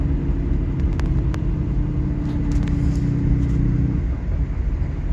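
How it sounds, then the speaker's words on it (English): A 5.9 common rail diesel truck with its exhaust brake engaged gives a steady, loud low rumble and drone under way, holding constant before easing slightly toward the end, with no voices. "when the exhaust brake kicks on with an automatic, it will lock the converter for you, unlock it, downshift, and then relock it"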